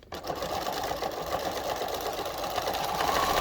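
A sewing machine stitches steadily through a bulky apron seam, running continuously at close range with a constant mechanical whir that holds even throughout.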